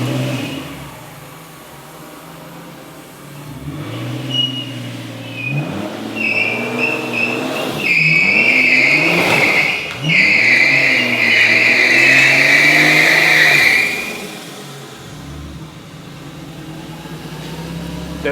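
A V12 twin-turbo BJ40 LandCruiser doing a burnout with axle tramp, engine revving up hard in surging pulses, then a sustained loud roar with screeching tyres before dropping back to idle.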